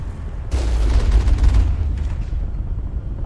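Turrets fire in the Mass Effect video game as a sustained, loud, booming barrage with heavy low rumble and crackling bursts. The noise swells after a brief lead-in, then fades toward the end.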